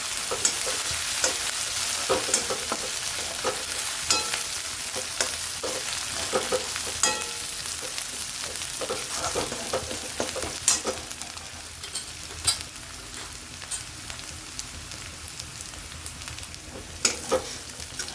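Green chili paste fries in a pan for a rustic village-style vegetable dish, a continuous sizzle broken by frequent spatula scrapes and clinks throughout, fairly close and steady.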